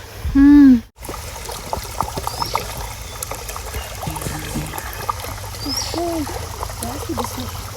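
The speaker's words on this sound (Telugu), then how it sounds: "ఆ సెలయేరు చూపించు, ఎలా పారాడుతున్నాయో నీళ్లు కనిపిస్తున్నాయా?" A small woodland stream flows and trickles steadily at low volume, its soft watery rush forming a constant bed under a few brief voices and one short tonal burst at the start.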